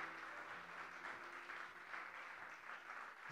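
A church congregation applauding the word of the Lord, sustained clapping from a crowd, steady and fairly faint, continuing for a few seconds without a break.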